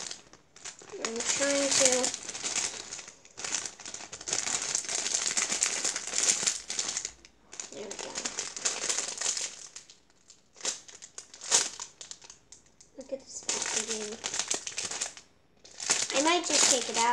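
Soft plastic packaging crinkles and rustles in bursts as it is handled close up, with pauses between handfuls, while people talk over it.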